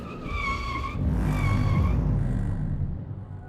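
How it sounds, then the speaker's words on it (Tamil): A car brakes hard with a tire squeal, a bright screeching tone over low engine rumble that fades as the vehicle comes to a stop, with no voices. "வண்டியை நிறுத்து."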